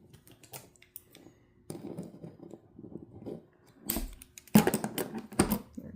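Scissors snip crochet yarn in a series of quiet, close, irregular cuts, with faint handling noise between them and a couple of louder snips near the end.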